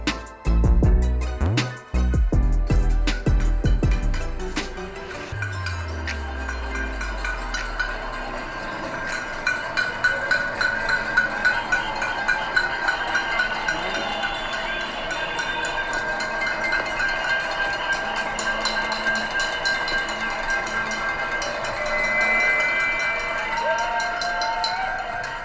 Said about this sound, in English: It's the sound of New York City roaring and cheering for essential healthcare workers during the height of the pandemic every single night at 7 p.m.